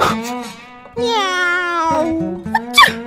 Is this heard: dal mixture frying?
no